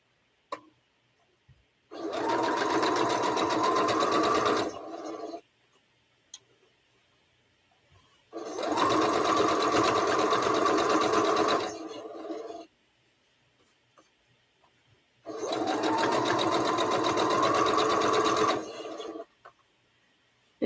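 A sewing machine stitches seams for an All Roads quilt in three separate bursts of steady, rapid whirring, each lasting about three seconds, with quiet pauses between them.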